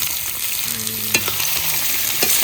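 Meat frying in a pan over a late-night campfire, giving a steady close sizzle with a couple of sharp clinks partway through and no talking.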